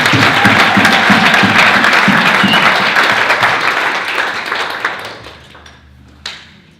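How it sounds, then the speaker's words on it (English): An audience at a conference session claps loudly in dense, continuous applause that gradually thins out into scattered final claps and near silence. "Yeah, we can fucking clap for Scott"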